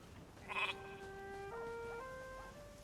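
A goat in The Elder Scrolls Online lets out a short wavering bleat, followed by a longer tremulous cry with stepped pitch, clear and moderately loud over quiet game ambience.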